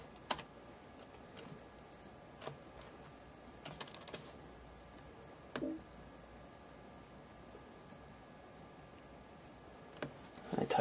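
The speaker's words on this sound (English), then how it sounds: "I typed rebook." Keys on a Mac computer keyboard are struck in sparse, scattered clicks and short bursts, faint and close in a quiet room, with a slightly louder flurry near the end.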